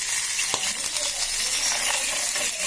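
Peanuts frying in a pan, a steady close crackling sizzle with a few sharp clicks from stirring.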